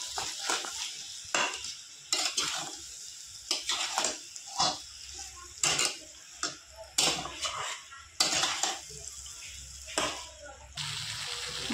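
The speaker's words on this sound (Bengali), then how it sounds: "মশলা আমি ভালো করে কষিয়ে নিয়েছি।" A paste of mustard, green chili, tomato and garlic is fried and stirred in a pan, giving irregular bursts of scraping and sputtering sizzle separated by brief quieter gaps.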